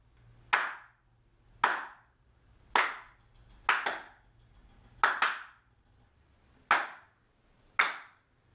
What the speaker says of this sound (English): And then we've also got hand claps.